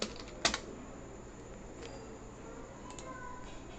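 A few sparse keystrokes on a computer keyboard while an address is typed into an online West Bengal land mutation form, with one sharper click standing out against a quiet room hum.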